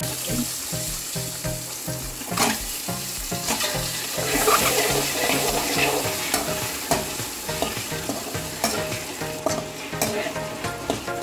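Eggs fry in oil with chilli powder and salt, a loud continuous sizzle with repeated scraping and stirring strokes against the pan.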